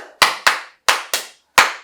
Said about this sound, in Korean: 제가 시작에 앞서가지고 손뼉을 한번 쳐볼까 하는데